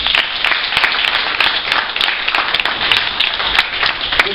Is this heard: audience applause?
yes